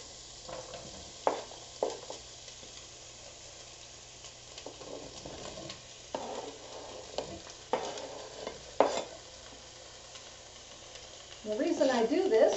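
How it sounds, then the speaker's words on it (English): Chopped onion and green bell peppers sauté in a pan with a soft, steady sizzle, broken by a series of stirring scrapes and clatters, and a louder burst of frying near the end. "And I'm going to add to that 1 medium onion and 2 bell peppers, 2 green bell peppers. And I'm going to saute them"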